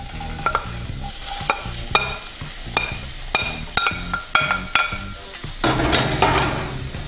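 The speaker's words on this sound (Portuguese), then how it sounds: "vamos colocar o coco na panela, ó" Grated coconut stirred with a utensil in an iron pan on the stove, giving repeated scraping strokes and clinks over a soft sizzle, loud and close, with no one talking.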